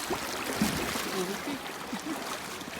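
Rushing water flows steadily with a broad hiss, while a voice speaks faintly in the background.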